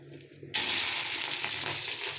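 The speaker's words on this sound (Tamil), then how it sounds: "கடுகு போட்டுக்கலாம். கடுகு பொரிஞ்சதும்" Mustard seeds drop into hot oil for a cabbage and potato poriyal, a sudden close burst of crackling sizzle that holds steady after a quiet start, with no voices.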